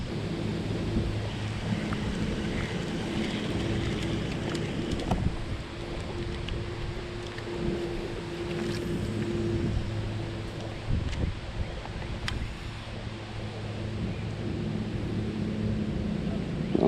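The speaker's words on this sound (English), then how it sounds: "This wind ain't safe." Strong wind gusting across a lake, a steady broad roar with low rumble and occasional buffeting bumps against the microphone, loud and continuous throughout.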